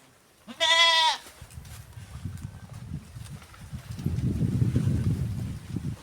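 On a farm, a single loud, close goat bleat sounds early on, followed by quieter low rustling and wind-like rumble.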